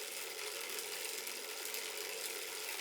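A Tacx Neo 2T smart turbo trainer running at 100 watts gives a steady, fairly quiet whirring hiss with a faint mechanical rattle, continuous throughout with no voices.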